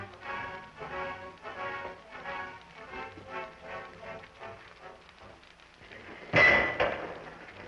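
Rapid metallic hammering, like a repeated mechanical striking, plays in an old 1930s serial setting, steady clattering blows that fade before one sharp louder crash near the end, with no speech.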